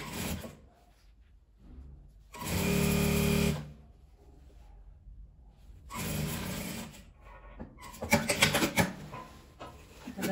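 A sewing machine stitching a patchwork door mat, running in short loud bursts separated by quieter pauses with handling and rubbing of fabric in between.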